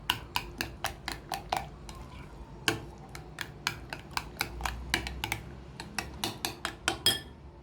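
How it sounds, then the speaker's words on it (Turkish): A spoon mixes strained yogurt with regular yogurt in a bowl, tapping the rim in a quick, steady run of sharp clicks, close up and alone. "3 yemek kaşığı süzme yoğurt, 2 yemek kaşığı da normal yoğurdu birlikte karıştırıyorum"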